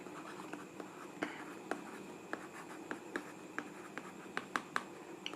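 A pen writes quickly on paper, putting down a voltmeter heading in class notes. Close, soft scratching strokes come in an uneven rhythm with small taps, over faint background murmur.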